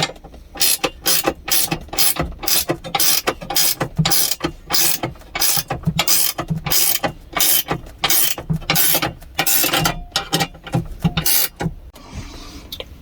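A ratchet wrench clicks rapidly in repeated bursts while tightening the top bolt of a locking TV mount inside a camper, loud and close with brief pauses between strokes and no talk.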